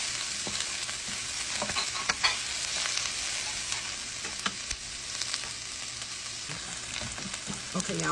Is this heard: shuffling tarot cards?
no